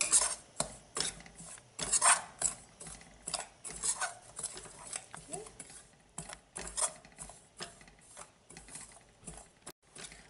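Gram flour stirred with a spoon in a pan while roasting on a low flame, soft irregular scraping and clinking strokes at an uneven rhythm, close and quiet, with no talking.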